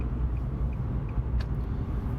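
Steady low engine and road rumble inside a car driving across Oklahoma City, continuous and even throughout, with a few faint ticks and no talk.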